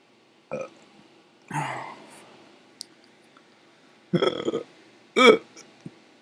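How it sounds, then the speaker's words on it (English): Several loud, separate burps from a woman during a Sims 4 gaming session, irregularly spaced across a few seconds, close to the microphone with a quiet background between them and no other talk. "Here come the burps, y'all."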